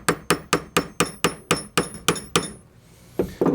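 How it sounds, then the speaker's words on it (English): A hammer peens the end of leather holster lacing, striking about ten times in a steady rapid rhythm with crisp, ringing impacts. After a short pause, two more taps follow. "a lot of people will take their hammer and peen the end of that"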